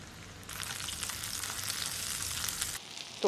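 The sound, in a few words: seekh kebabs frying in a pan while being turned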